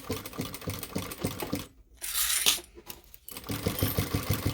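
A sewing machine stitching a messenger bag runs in quick rhythmic bursts of needle strokes, stops briefly midway during a short handling noise, then resumes its steady close-up stitching.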